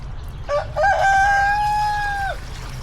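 A rooster in a backyard flock gives one loud, drawn-out crow close by, rising sharply and holding before dropping off, over a low background hum.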